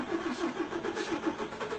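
A car stopped at a street checkpoint in Aba, with a steady mid-pitched engine hum that pulses evenly, close and continuous, with no voices.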